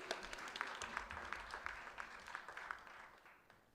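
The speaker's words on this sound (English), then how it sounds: "One more round of applause for Saurav" An audience at a live cultural event claps for a performer named Saurav with distinct, rhythmic individual claps that gradually thin and fade, quiet and somewhat distant.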